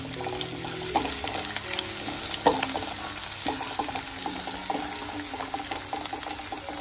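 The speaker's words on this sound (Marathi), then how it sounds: "लसूण आणि मिरची मस्त तेलामध्ये परतून घेऊ दे" Garlic and chili frying in hot oil in a home kitchen pan, a steady soft sizzle with occasional clinks and stirring scrapes, no talking.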